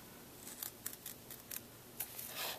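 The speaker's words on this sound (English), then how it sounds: "with some basic kitchen scissors here." Several short, crisp snips of kitchen scissors cutting, spaced irregularly, with a longer slicing cut at the end; quiet background, no talking.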